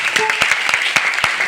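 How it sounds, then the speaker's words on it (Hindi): Audience clapping at a network marketing event in a hall, a dense burst of applause with sharp individual claps, fairly loud and close, with faint voices mixed in. "इसके लिए जोरदार तालियां होनी चाहिए।"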